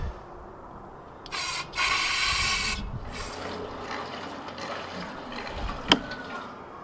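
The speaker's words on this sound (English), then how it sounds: "We'll throw those bolts, nuts, and whatnot in here, slosh it all around" Bolts, nuts and other loose metal shaken inside a car's metal gas tank give a gritty, rattling rasp that rises loudly for about a second, then continues as a softer scraping churn with one sharp clank near the end.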